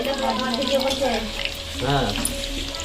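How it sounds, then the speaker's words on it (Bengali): Potatoes frying in a pan in a home kitchen, a continuous close sizzle running under people talking. "আলু ভাজা হচ্ছে"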